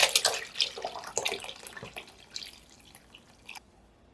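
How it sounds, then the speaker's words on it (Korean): Water splashes and drips into a pot holding kelp and dried mushrooms in a quick series of bright, irregular bursts that gradually thin out and fade by the end. "냄비에 버섯과 함께 부어주시고요"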